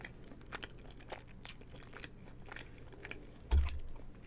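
Close, quiet chewing of a forkful of cheesy parmesan chicken pasta, soft wet mastication and small crunchy bites repeating over a few seconds, ending with a brief louder low thump.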